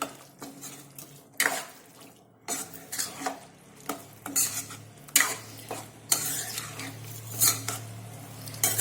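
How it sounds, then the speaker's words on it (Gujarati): A spoon stirs boiled pigeon peas into gravy in a pan for Mehsana-style tuver totha, with repeated scraping and clinking strokes over a soft background sizzle. "તેની સાથે બરાબર મિક્સ કરી લઈશું."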